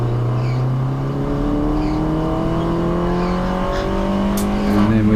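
A Mini Challenge Cooper S race car from 2018 on a wet, greasy Brands Hatch circuit, engine droning loud and close from onboard with steady rising and falling revs as it brakes and pulls up the hill, with no talk over it.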